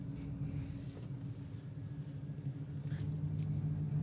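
A Lexus driving slowly through a car park, heard as a low steady engine rumble from inside the cabin, fairly quiet and continuous.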